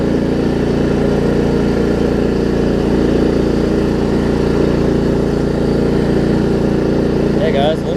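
A Craftsman LT1750 limited edition lawn tractor engine runs steadily and loudly close by, a constant droning hum with no breaks.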